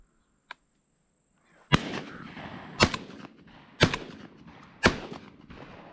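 Four loud shotgun blasts during a dove hunt in South Georgia, spaced about a second apart outdoors, each followed by a short rumbling echo, with a faint click before the first shot and no talking.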